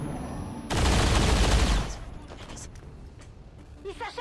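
A loud burst of rapid gunfire erupts in XCOM 2 and rattles for about a second before cutting off. Faint clicks and brief interface sounds follow in the quieter tail.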